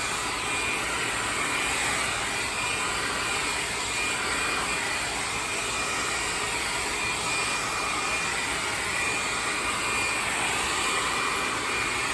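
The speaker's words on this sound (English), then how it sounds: "so we're gonna get the hairdryer out." A steady, loud whooshing roar of a hair dryer blowing continuously, unchanging from start to finish.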